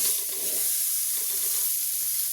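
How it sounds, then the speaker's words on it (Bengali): Drumstick flowers frying in a pan, giving a continuous close, bright sizzle and hiss that stays even throughout with no talking. "আমি এটা ভালো করে ভাজা ভাজা করে নিই"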